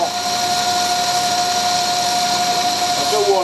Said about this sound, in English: I've got a little vibration on this because the boring bar's sticking out that far